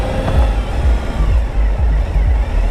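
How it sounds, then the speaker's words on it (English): A car with a very loud, concert-level sound system passes close by, its heavy thumping low bass pulsing steadily over the engine rumble. "It sounds like a concert level sound system"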